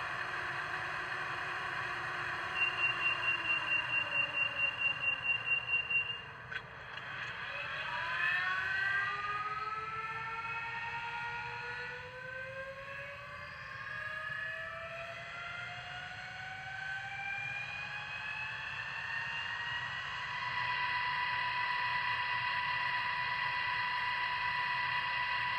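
A Rapido HO scale RTL Turboliner X2000 model train plays its turbine sound, a rising, whining jet-like tone that climbs and holds over a steady hum, after a short series of rapid ticking pulses, with no talking.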